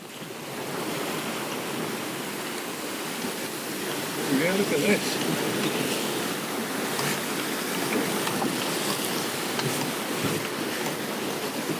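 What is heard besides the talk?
choppy sea waves around sailing boat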